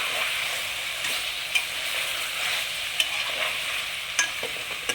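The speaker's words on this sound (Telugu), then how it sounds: "కారం వేసుకొని ఇలా కలిపి" Chili powder being stirred into chicken curry in a pan, with a steady scraping and sizzling spoon motion that carries throughout, a few sharper clicks of the utensil against the pan standing out.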